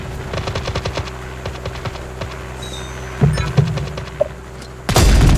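Gunfire in the Android shooter game Six A Raider Mission: rapid bursts of automatic fire, then scattered heavier thuds and a loud blast at the end.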